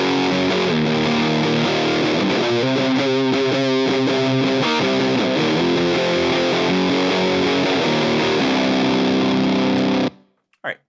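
Heavily distorted electric guitar riff played through a Line 6 Helix amp modeler, a loud, dense chugging and sustained-chord passage that runs steadily for about ten seconds before stopping abruptly, with a brief clunk after.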